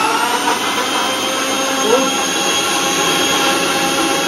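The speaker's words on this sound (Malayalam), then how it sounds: "ആദ്യം ഇത് അടിച്ച് ജസ്റ്റ് ഒന്ന് ജ്യൂസ് ആക്കി എടുക്കും" A mixer jar blends grapes into juice, making a loud, steady high-pitched motor whine that runs without a break throughout.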